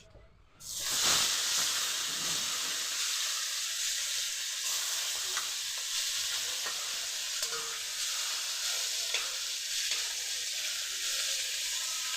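Loud, steady sizzling of stinging catfish (singhi) frying in hot oil in a wok, beginning abruptly and hissing continuously throughout with occasional faint pops.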